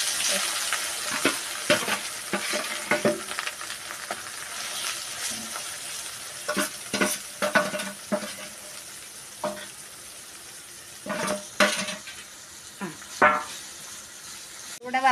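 Prawns sizzle and crackle in hot oil for pickle, a steady frying hiss broken by scraping and clinking of a ladle, with occasional talk in the background.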